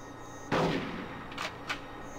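A gun fired in the video game Conker's Bad Fur Day, with one loud burst followed by two shorter, quieter shots over a steady game background.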